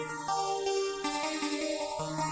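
A Xenology Synth Polykey preset plays a melody of bright, layered synth notes with steady stepping changes, a sweeping filtered tone behind it, played alone.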